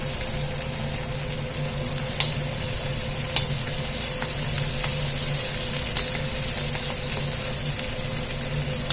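Fenugreek leaves frying with onions in a pan for aloo methi curry, a steady soft sizzle with a few sharp scrapes of a stirring spoon, fairly quiet and with no talking.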